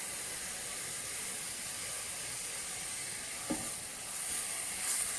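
Red bell pepper sizzles steadily in a pan with translucent onion, a continuous close frying hiss with a brief stir-like knock partway through and slightly louder crackle near the end, no voices.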